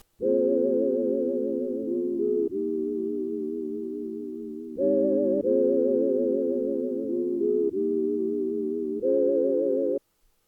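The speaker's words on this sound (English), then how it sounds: "And after that I added a one-shot pad" Sustained one-shot synth pad chords, soft and warm, shifting through a slow progression of held notes with no other sounds.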